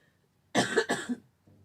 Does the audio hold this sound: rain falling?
no